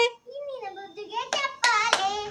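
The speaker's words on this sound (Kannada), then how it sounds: "ಈ ನಿನ್ನ ಬುದ್ಧಿಗೆ ಚಪ್ಪಾಳೆ" Children in a classroom clap along with a sung chant: a voice sings first, then three close, crisp claps punctuate the words near the end.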